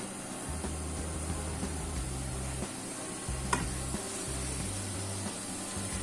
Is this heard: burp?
no